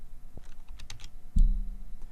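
Someone types a table name on a computer keyboard: a few soft, scattered keystrokes close by, then one heavier key thump near the end, in a quiet room.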